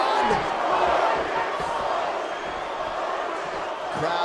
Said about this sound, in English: Crowd trying to urge Covington on here